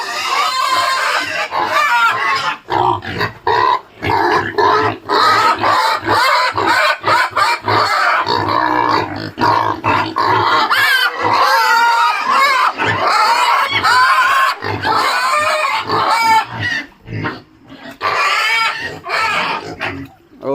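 Pigs on a pig farm in Assam, grunting and squealing near and loud through most of the stretch, with overlapping animal cries, scuffling and brief gaps in the din.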